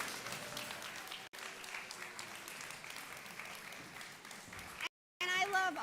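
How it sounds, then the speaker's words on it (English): A conference audience at a food summit applauds steadily for several seconds, a dense even wash of clapping that breaks off briefly, returns, then cuts out before a voice begins over a final burst. "So please give Joka a round of applause."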